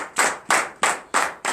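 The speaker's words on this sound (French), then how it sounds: "Donne l'acclamation à cette parole." Crowd applause at a Saturday morning prayer service, heard as five loud, evenly spaced bursts of clapping with no talk.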